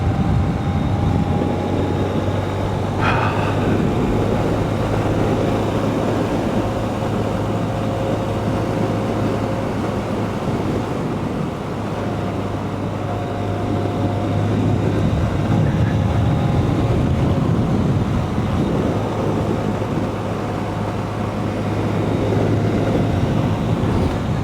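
Honda CB125F motorcycle with a 120cc fuel-injected engine cruising in fifth gear, a steady low engine drone blended with continuous wind rush, loud and even throughout with no talking.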